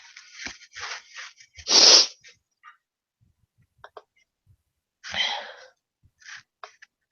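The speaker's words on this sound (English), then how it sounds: "I sneezed." A person sneezes once, sharp and close, after a few short breathy sounds, then exhales with a softer burst and a couple of faint clicks in an otherwise quiet room.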